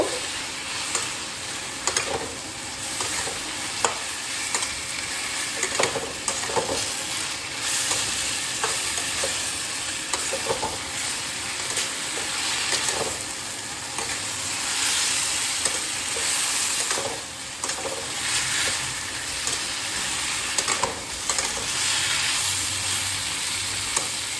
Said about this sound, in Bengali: সবজিগুলো মশলায় মাখিয়ে নেব।